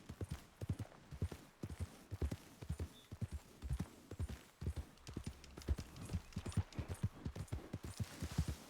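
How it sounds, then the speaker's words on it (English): Hooves of a troop of white horses clip-clop in a busy, uneven patter across the whole stretch in Red Dead Redemption 2, several animals moving together at a steady walk, fairly close, with no talk over them. "There's a whole damn troop of white horses."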